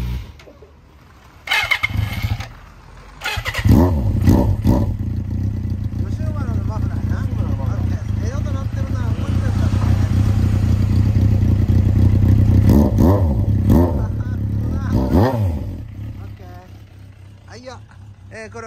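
A 1992 Suzuki GSX400S motorcycle engine fitted with an aftermarket exhaust runs loud and steady at close range with rising and falling revs, while people talk over it near the start and end.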